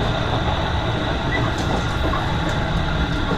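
A Ban'etsu West Line special rapid train, a DE10 diesel locomotive hauling 12-series coaches, heard from inside the coach: a steady, moderate rumble of running wheels and carriage noise with no talk.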